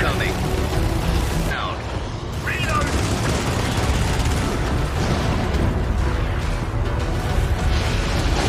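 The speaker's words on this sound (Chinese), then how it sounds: "那边乱开枪了" Chaotic gunfire and explosions in the video game Helldivers, a dense, loud barrage running throughout with players talking over it.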